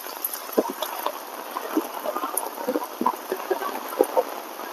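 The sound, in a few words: rain falling on a temple path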